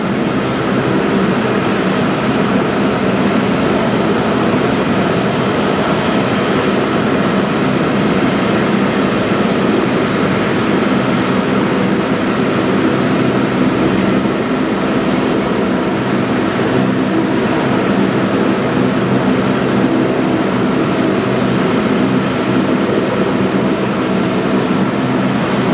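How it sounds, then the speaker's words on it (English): Engines on vintage warbird aircraft spin up into a steady, loud, broad roar that holds without pause throughout, with no talking. "Waiting for these beautiful warbirds to spin up."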